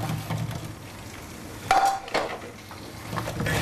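Cassava (mogo) being mixed into spice masala with black pepper in a pot, a few scraping clanks of a spoon against metal, close and moderately loud with brief pauses between strokes.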